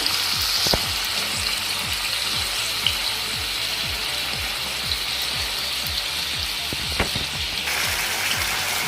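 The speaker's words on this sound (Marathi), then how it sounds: "सर्व पीसेस मी टाकले आहेत त्यामध्ये आता आपण हे सेवन्टी पर्सेंट फ्राय करून घेऊया" Small chicken pieces fry steadily in a pan for a restaurant-style chicken changezi, a continuous close sizzle with rhythmic crackling pops and a couple of sharper clinks.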